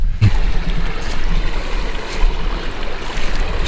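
A creek rushes over small mossy boulders, a loud, close, continuous wash of gurgling water with no voices, just an unbroken rolling flow.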